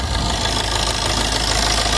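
A Maruti Suzuki Ritz VDi diesel engine idles steadily with a deep, low rumble and a faint knocking chatter, close by and continuous with no talking.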